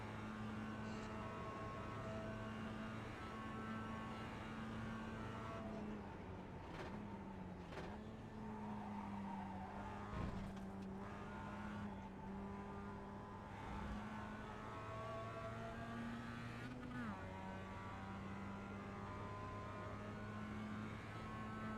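A Mazda race car at Daytona in a racing video game holds a steady, buzzing engine note with small pitch dips at shifts, running continuously and fairly faint throughout.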